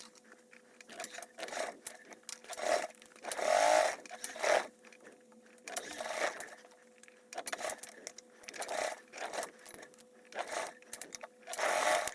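A sewing machine stitches an insulated tote bag in short bursts, its motor whirring up and stopping repeatedly with quiet gaps between runs, fairly close and moderate in volume; no talk.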